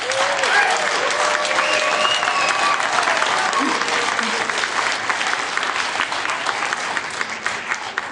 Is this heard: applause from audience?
yes